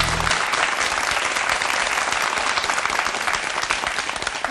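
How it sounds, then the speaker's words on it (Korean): A television studio audience claps warmly and steadily, a dense, loud wash of applause that holds without pause for several seconds, with no voices over it. "다시 한번 박수 보내주세요"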